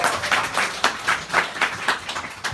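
An audience at a Christmas concert in a bar claps in a steady, rhythmic beat, roughly even hand claps repeating about every third of a second at moderate volume, with no voices.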